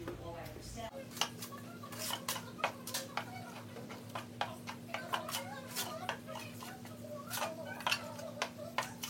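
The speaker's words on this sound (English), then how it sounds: "we mix this up real good" Food stirred briskly in a bowl, a utensil tapping and scraping the sides in a steady repeating rhythm over a low constant hum, close and fairly loud.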